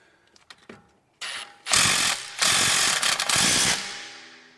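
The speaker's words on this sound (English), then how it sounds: "The 21mm socket turns the nut." A 21mm socket works the CV axle nut on a Toyota Camry, giving a few faint ticks and then several loud, broadband bursts of ratcheting and clattering metal close by, with no talk.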